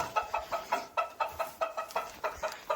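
Chickens cluck close by in a steady rhythmic series of short, repeated clucks, roughly a dozen in a row with no talking.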